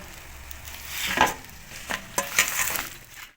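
Fish paturi wrapped in banana leaf fries in a pan: a steady soft sizzle close by, with a few sharper spatters and clacks as the parcel is turned, ending abruptly.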